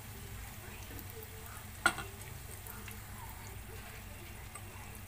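Potato onion pakora fries in oil on its second side, a faint, steady low sizzle with one brief sharp clack partway through.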